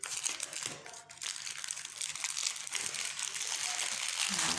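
A crinkly plastic package is torn open for an unboxing, close and fairly quiet: rustling, crackling crumples that rise and fall and keep going, with no talking.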